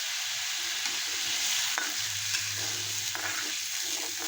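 Thick Marathi-style masala paste for shev bhaji, already frying in oil, hisses and sizzles steadily as water goes in, with stirring scrapes and clinks close by and no voices.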